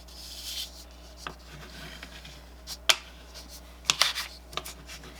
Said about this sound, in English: I'm going to take this off my crayon and rub it across